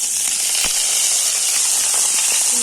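Two hundred grams of paneer fry in two tablespoons of hot oil over a simmering stove, giving a loud, steady sizzle and hiss with a few faint crackles and pops.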